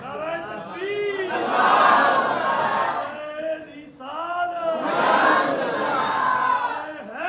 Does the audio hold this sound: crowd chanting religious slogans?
yes